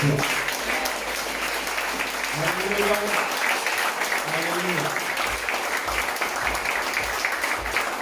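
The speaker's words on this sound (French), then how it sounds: "Acclame Jésus parce qu'il est pour toi" Congregation in a church applauding and cheering to acclaim Jesus, dense sustained clapping mixed with voices calling out, fairly loud and continuous throughout.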